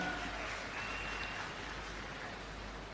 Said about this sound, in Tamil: சந்தியா அவர்களுக்கு உற்சாகமான கரகோஷம்